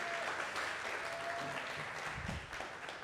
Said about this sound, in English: One more round of applause for Ella.